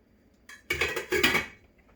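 A spoon works through a pot of Bolognese sauce for homemade lasagna, giving a couple of short bursts of scraping and clinking against the pot, close and fairly quiet.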